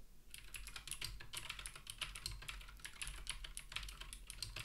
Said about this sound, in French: vous allez voir que les bruits de touche vont être beaucoup moins forts